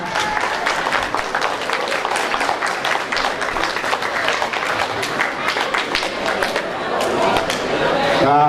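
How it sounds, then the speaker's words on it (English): Sustained applause fills a room at a sports team's awards banquet, dense clapping steady throughout with crowd chatter mixed in. "so we can get a round of applause to them"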